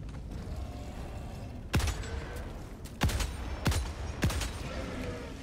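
Gunfire from a weapon in the video game Helldivers 2: four sharp, loud shots fired at irregular intervals of about a second, each cracking out alone over a low, steady background rumble.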